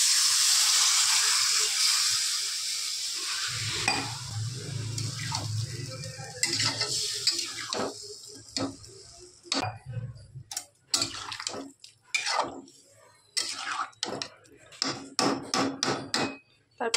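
Water is poured into an egg and potato curry in a kadai, starting as a steady rushing splash onto the sizzling masala, then giving way to clanks and knocks of a spoon stirring against the pan.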